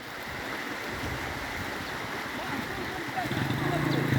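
The Rio Mocambo in Utinga, swollen with floodwater after heavy rain, rushes past as a steady, broad roar that grows slightly louder toward the end, with a voice talking nearby.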